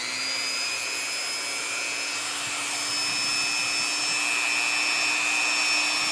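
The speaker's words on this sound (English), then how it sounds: "use the cutting wheel on the Dremel" A Dremel rotary tool fitted with a cutting wheel runs steadily on a hard RC crawler body for an SCX24 build, giving a constant, close, high whine with no talk over it.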